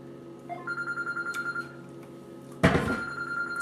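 A telephone rings in a home kitchen with a steady repeating electronic trill, followed by a thunk as the handset is picked up, heard clearly with no talking.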